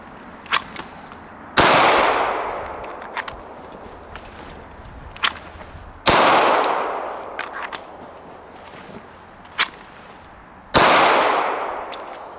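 Three sharp handgun shots ring out during a concealed carry drill, spaced several seconds apart, each loud and close with a long decaying echo, and faint clicks and footsteps fill the gaps.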